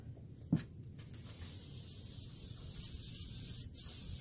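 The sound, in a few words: spray adhesive sprayed onto quilt batting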